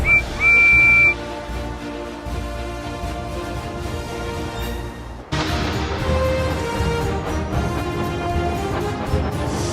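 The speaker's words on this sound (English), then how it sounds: "A guard blew his whistle, then Percy was off." A railway station guard blows a shrill whistle in one short, strong blast at the start, followed by the steady rumble of a departing engine under music.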